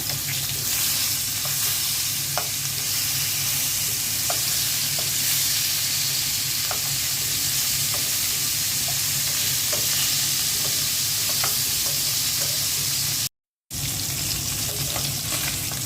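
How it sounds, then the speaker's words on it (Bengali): Fish frying in hot oil in a pan sizzles steadily and loudly, with a few sharp clinks and scrapes as the pieces are turned over. There is a brief dropout near the end. "মাছ ভাজাটা উল্টে দিচ্ছি।"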